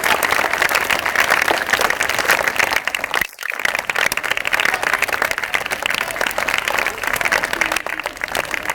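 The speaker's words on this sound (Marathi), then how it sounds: "टाळ्या वाजवत राहिल्या पाहिजे या सत्कारासाठी आपल्याला नम्र विनंती." Audience applause at an honouring ceremony during a film promotion event, dense sustained clapping with a brief dip midway, a voice faintly present beneath.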